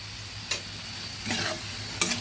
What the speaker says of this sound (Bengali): বেশ কয়েকবার নেড়ে নেড়ে ঢেকে ঢেকে আলুটা ভেজে নিয়েছি